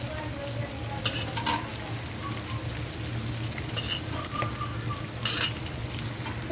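Green beans stir-fried in a pan for vegetable chowmein, a steady low sizzle with occasional metallic scrapes and clinks of a utensil against the pan throughout.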